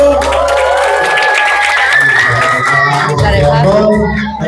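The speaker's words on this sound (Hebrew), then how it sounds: "איפה כפיים לאבו?" At a family celebration with dancing, a crowd claps and cheers loudly, with voices shouting through the applause, before it tapers off toward the end.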